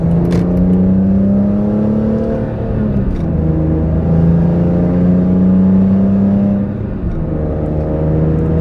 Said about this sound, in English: And these are no lift shifts, so these are foot stays on the accelerator